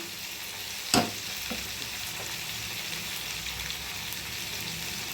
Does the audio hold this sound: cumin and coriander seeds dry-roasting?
yes